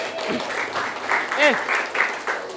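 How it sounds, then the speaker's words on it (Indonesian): Applause in a classroom group session, steady clapping from several people with voices talking over it throughout. "tepuk tangan untuk kita semuanya"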